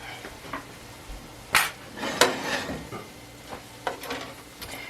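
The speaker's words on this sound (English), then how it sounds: "My trusty sidekick will scrape the skillet out for me." Metal spoon scraping cooked rice out of a skillet during Mexican restaurant-style rice preparation, a few sharp scrapes and clinks spaced irregularly against a quiet kitchen background, with no talking.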